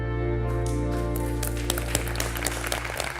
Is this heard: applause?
yes